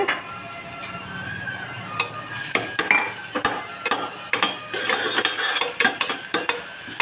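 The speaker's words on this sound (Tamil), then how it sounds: "இதை நல்லா வதக்கி விட்டுருவோம்" Ginger garlic paste fries with golden browned onions for tomato rice, a steady sizzle under repeated clinks and scrapes of a spoon stirring against the pot.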